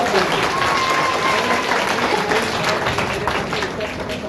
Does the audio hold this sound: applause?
yes